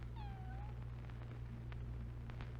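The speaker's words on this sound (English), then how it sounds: "Is that a cat?" A single cat gives a drawn-out meow, faint and somewhat distant over a low steady hum, followed by a few soft clicks and rustles.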